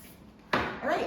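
A sudden hissing burst of hairspray starts abruptly, pauses briefly, then hisses again close to the listener.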